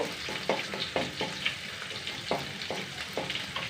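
Small onions fry in a pan with a soft, continuous sizzle, and a utensil scrapes through them in regular strokes.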